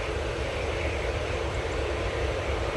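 An airliner departs Manchester Airport. Its broad, steady jet roar fills the whole stretch at an even, fairly distant level, with no voices over it.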